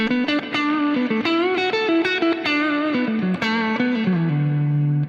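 Electric guitar played through a Fractal VP4 with a Woodshed compressor, a sustained melodic line of bending, gliding notes with a compressed, effected tone, loud and continuous, ending on a held low note.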